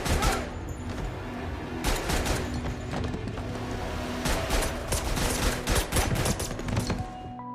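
Loud bursts of film gunfire crackle in rapid volleys, several shots clustered together over a dense, rumbling action-scene background.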